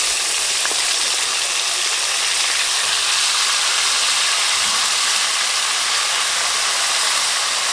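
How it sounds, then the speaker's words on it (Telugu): Washed chicken sizzles in hot oil with turmeric in a pan while cooking a green chicken dish, giving a steady, loud, bright frying hiss with no talking. "ఇప్పుడు దీంట్లో మనం కడిగి పెట్టుకున్న చికెన్ దీంట్లో వేసుకోవాలి"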